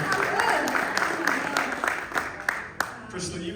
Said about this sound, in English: And you all are clapping.